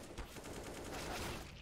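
During a competitive Counter-Strike match, rapid automatic gunfire rattles in dense, continuous bursts with many overlapping shots, loud and steady throughout.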